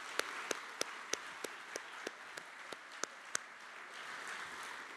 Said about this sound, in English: And let's have a round of applause for them